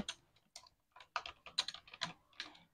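Typing on a computer keyboard while writing Java code: quick irregular clusters of crisp key clicks with short pauses between bursts, close and fairly quiet, no speech.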